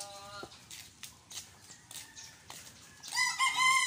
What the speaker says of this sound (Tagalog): Mga pogi yung mga manok.